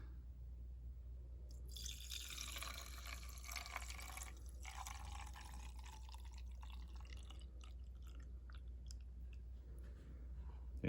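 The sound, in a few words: pouring cleaning solution into Bissell carpet cleaner tank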